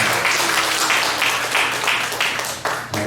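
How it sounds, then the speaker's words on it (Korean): A church congregation applauds together in a dense, loud burst of hand claps that swells and settles in rhythmic waves, then tapers near the end. "우리 하나님께 영광의 박수 올려드리겠습니다"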